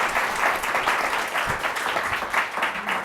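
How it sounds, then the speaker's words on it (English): An audience at a breakfast panel on early childhood education applauds the panelists, a moderately loud, continuous patter of many hands with slight swells, no talk over it. "Let's give them a round of applause."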